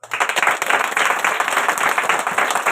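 A crowd claps steadily and loudly for a few seconds, a dense, even patter of many hands with no voices on top.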